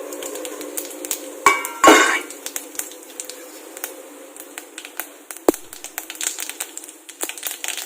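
Mustard seeds, cumin, cardamom, cloves and cinnamon sputter in hot oil, giving sharp scattered pops and crackles with a few louder bursts early on, close and fairly quiet, no talking.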